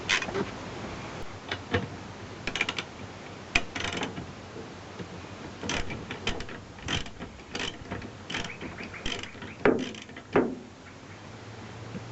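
A ratchet backing out 12mm bolts on the windscreen wiper arms of a 2005 Magna, with close, intermittent clicking bursts and light mechanical handling noise, and no talk.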